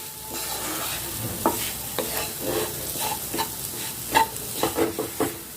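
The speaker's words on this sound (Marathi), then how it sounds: "पाच मिनिट मी याला असं कंटिन्यू लो फ्लेमवरती भाजून घेतले" Moong dal roasting in a pan on low flame for halwa, a soft continuous sizzle broken by repeated scraping strokes of a spoon, close and fairly quiet with no voices.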